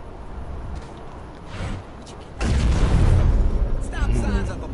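Explosion in the video game Saints Row 4, a sudden loud boom midway that cuts into a quieter background and is followed by a sustained rumbling roar and some crackling debris.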